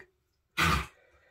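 A single short, harsh cough-like burst from an animal, loud and close, followed by faint low rustling.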